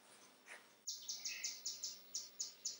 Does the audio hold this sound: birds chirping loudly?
yes